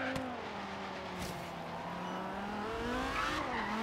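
Tires squeal and skid in Forza Horizon 3 over a revving race car engine, a sustained screech with rising and falling pitch sweeps, loud and close throughout.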